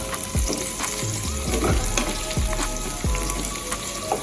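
Saltfish frying in a pan with onions, sweet pepper and hot pepper, giving a loud continuous sizzle with several sharp spoon-scrape strokes spread through it.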